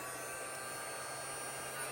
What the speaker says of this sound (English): This is my little desk vacuum here.